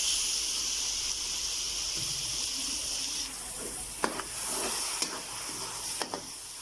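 Keema masala sizzles steadily in a hot pan, with a few soft scraping knocks from stirring toward the end; no one speaks.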